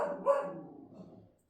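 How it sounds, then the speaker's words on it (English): A dog lets out a single faint bark from inside a quiet home, a short yelp-like burst that trails off within about a second. "you're probably going to hear my dog barking because someone walked by the front window"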